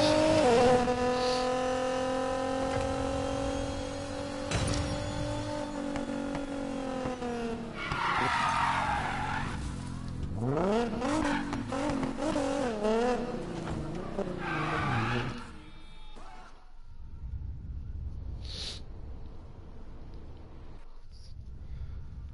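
A Nissan Skyline R34 driven hard in the Need for Speed Payback racing game, engine tones rising and holding, then long tire squeals and skids as it drifts, loud and close, fading toward the end.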